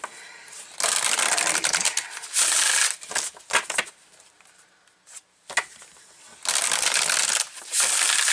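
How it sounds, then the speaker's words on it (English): Tarot oracle cards shuffled by hand in several quick riffling bursts separated by short pauses, crisp and close. "So you went almost all reading without any card shuffling."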